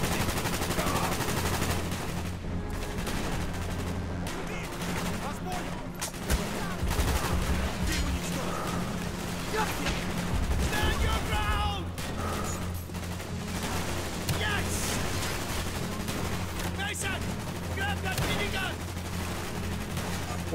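Sustained minigun fire from the Black Ops 1 campaign, a dense continuous rattle of rapid shots with booming low rumble throughout, loud and close, with voices now and then underneath.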